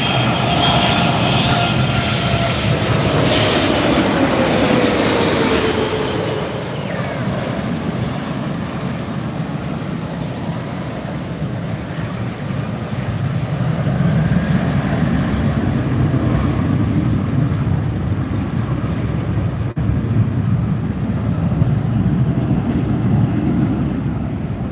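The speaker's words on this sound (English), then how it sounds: "What's coming? Eva Air 777-300ER." An Eva Air Boeing 777-300ER airliner at LAX gives a loud, sustained engine roar close by, its whine sliding down in pitch as the roar shifts and lingers over about twenty-five seconds.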